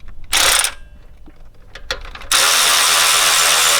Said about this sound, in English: once you've got the bolt in, it's now time to tighten it up a little bit